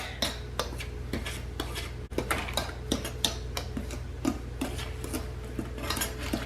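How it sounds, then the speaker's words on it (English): A small whisk beats bread batter for strawberry walnut bread in a bowl, making quick, light, repeated clicks and taps against the sides at close range over a quiet room hum. "I'm just using a small whisk to do that"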